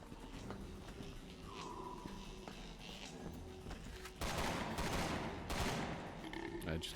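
Gunfire from the video game Resident Evil 6, Ada campaign, heard as a dense burst of shots over game ambience and footsteps, swelling louder in the second half amid other game noise.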